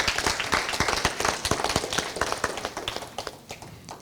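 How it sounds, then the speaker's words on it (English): A crowd at a Bunyoro-Kitara Kingdom cultural convention claps, loud and close, with sharp individual claps standing out over a dense, uneven patter that thins toward the end. "Can we really clap for ourselves?"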